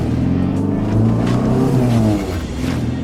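Throaty exhaust note of an MG sports car's 1.8 litre engine, a close, steady rumble that swells briefly as the revs lift, then settles back, with no talk over it.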